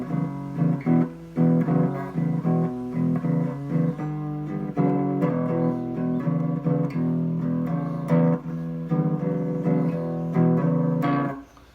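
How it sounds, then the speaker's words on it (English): Electric guitar playing a rock shuffle variation in D, a steady rhythmic pattern of repeated chugging low notes with added sixth, loud and up front with no talking, ending abruptly. "now a variation on the shuffle in rock is usually if we're going to do it in D, it would sound like this"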